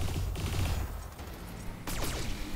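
Mech weapons firing in the Battletech video game, a dense volley of rapid gunfire and heavy impacts, loud and continuous, with a sharp burst of fresh shots near the end.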